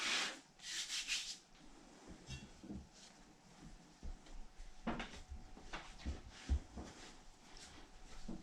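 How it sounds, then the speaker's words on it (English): Chicken pot pie dough is kneaded by hand on a work surface, a quiet run of soft rubbing, pressing and dull thumps in an uneven rhythm, heard close up with no talk. "we really just want to knead this a couple of times, a few times, until it comes together and smooths out."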